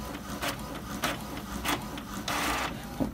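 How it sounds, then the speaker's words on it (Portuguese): An Epson inkjet printer prints the front side of a page, its print head shuttling in repeated whirring passes with a mechanical rattle, fairly loud and close. "Está imprimindo então a parte da frente,"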